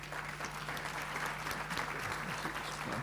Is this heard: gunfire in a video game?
no